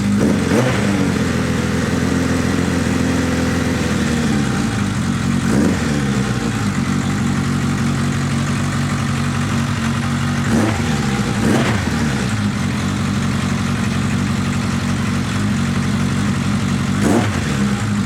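A motorcycle engine idles steadily close by while warming up after four months unused, with several sharp revs spaced through the run and no talking.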